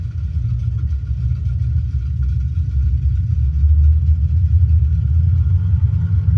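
Steady low rumble of a de Havilland Beaver's radial engine in a flight simulator game, droning loud and continuous and swelling slightly as the RPM is brought up, with no voices.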